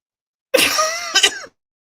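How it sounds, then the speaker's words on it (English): A single close, loud throat clearing, a rough rasp with a short second push near the end, set between silence. "Clear my throat."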